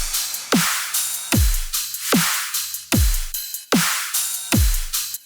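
A dubstep drum pattern in the typical drop style: heavy kicks with pitched-down sub tails, sharp snare hits and a crash cymbal, looping loudly in a steady, punchy rhythm with no voices.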